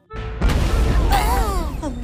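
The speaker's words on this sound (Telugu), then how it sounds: "అదేంటో అలా పేలిపోయింది? నేను చెప్పాను కదా అది బాంబని." A phone explodes like a bomb in a comedy film scene: one sudden loud boom with a rumbling blast tail that lasts about a second and a half.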